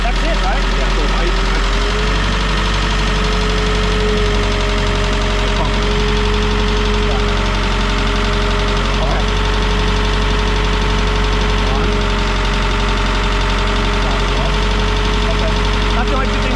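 A Putzmeister TK50 concrete pump's engine idles in a loud, steady drone with a low knocking hum, running without pause up close while people talk over it.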